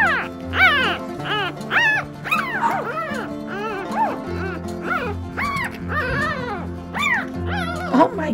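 Newborn West Highland White Terrier puppies yip and whimper, with repeated high, rising squeals in quick irregular succession close by, over a low steady hum.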